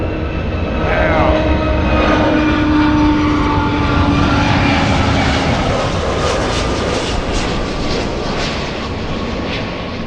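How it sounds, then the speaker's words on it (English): A Boeing 757-300 airliner at LAX airport roars with steady engine thrust, a loud, sustained whine and rumble rising as it departs, with a brief voice near the start. "Wow, good engine sound on that one. Good engine sounds."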